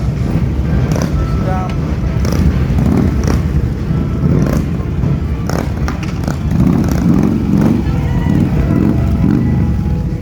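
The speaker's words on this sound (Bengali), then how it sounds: "মোটরসাইকেলগুলো আওয়াজে কিছু বোঝা যায় না" New motorcycles pass loudly along a road in Malaysia, their engines making a continuous heavy roar that swells and fades over the whole stretch, with traffic noise and people talking underneath.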